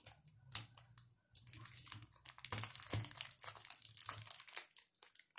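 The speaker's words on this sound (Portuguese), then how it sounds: "Você vai pegar a fita durex e vai passar aqui, ó." Plastic wrap crinkles and adhesive tape rustles close by while a hand-towel souvenir is wrapped, with bursts of crackling handling noise over a low hum.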